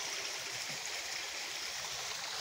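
Water from a garden pond waterfall, driven by a submerged electric pump up a hill, pours steadily in a continuous broadband rush with a low gurgle underneath, close and unbroken, with no voices.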